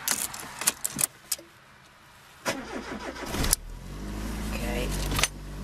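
A few metallic clicks and key jingles, then a car engine cranks and catches, settling into a steady low rumble close by.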